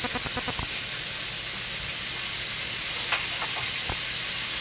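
Marinated steaks sizzle steadily in a hot pan with a constant frying hiss, broken by a few sharp clatters and taps as they are flipped.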